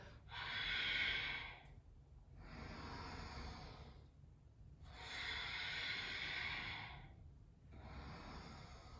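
Slow, deep breaths during a spine mobility exercise, four long airy inhales and exhales alternating with short pauses, close and fairly quiet with no speech.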